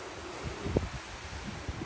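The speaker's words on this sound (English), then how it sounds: "It's extremely windy today." Strong wind blows outdoors in Idaho Springs, Colorado, while a group readies for snowmobiling: a steady, close broadband rush buffets the microphone with low gusting thumps throughout, and no one speaks.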